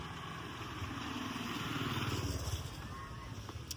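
Scooters pass along a street in North Bali, their engines rising and fading at moderate distance over a steady background hum, with a brief faint voice nearby.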